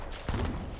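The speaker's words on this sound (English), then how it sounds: "We're getting shot at from behind." Gunfire in the Fortnite video game bursts in from behind about a third of the way through, a loud, dense volley of shots that carries on to the end of the brief moment.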